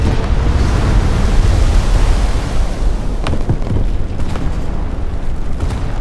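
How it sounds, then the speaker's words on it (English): A Kongou battleship's forward magazine detonates in World of Warships: a loud, sustained roar and deep rumble of the blast, with a few sharper cracks layered over the heavy, continuous noise. "My entire forward magazine, except for the 14-inch, just exploded."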